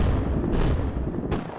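Game explosion from a twin-stick shooter as a zombie-like Floater enemy is killed: a dense, loud, sustained booming rumble filling the whole moment, with a second crackling burst near the end before it cuts off.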